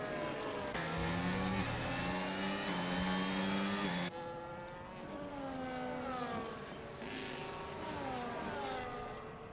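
Race car engines at Monza in a racing video game: loud, high whining engines rising and falling through gear changes, with one car passing close before a fainter car follows.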